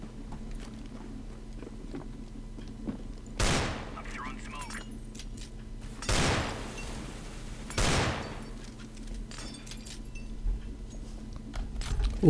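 Revolver gunfire in the video game Counter-Strike: Global Offensive: three sharp shots, spaced a couple of seconds apart, over quiet background game noise.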